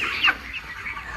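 Chickens on a poultry farm cluck while feeding, with one louder squawk standing out briefly above a constant low murmur of flock noise.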